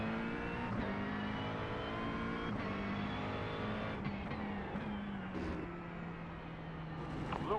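LMP2 prototype race car in the iRacing sim at Daytona during a 24-hour endurance race, its engine droning loudly and steadily with gear shifts and rising pitch as it approaches.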